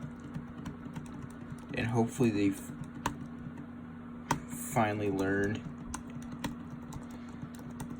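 Typing on a 2019 MacBook Pro butterfly keyboard gives light, scattered key clicks under a voice, with a steady low hum beneath and a sharper tap standing out now and then.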